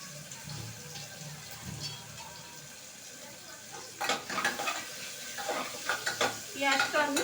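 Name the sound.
onion frying in a pan on low heat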